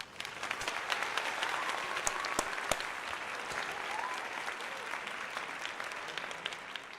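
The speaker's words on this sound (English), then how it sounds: "That deserves a round of applause." A crowd's round of applause in response to an NBA matchup between the Philadelphia 76ers and Portland Trail Blazers, steady dense clapping sustained for about seven seconds with a few sharper individual claps standing out, no voices over it.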